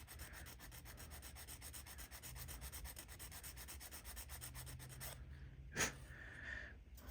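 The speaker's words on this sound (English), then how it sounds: "sand it down some more" A Street Hawk light bar part is sanded by hand in fast, rhythmic back-and-forth rubbing strokes, close and steady, stopping briefly near the end before a few more strokes.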